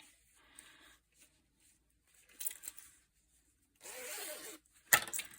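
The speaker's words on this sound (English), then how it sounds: "If we zip up, how does that look?" Zipper pulled closed on a handmade sewn fabric bag, giving a couple of brief rasping runs near the mic followed by a sharp click, amid quiet handling with no talk.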